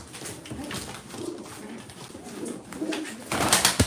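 Pigeons coo softly and repeatedly close by, low throaty calls rising and falling over rustling and background noise, growing a little louder toward the end.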